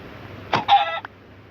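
A chicken gives a short, close cluck-like call, a brief burst followed by a sustained squawk of about half a second, standing alone over quiet background hum.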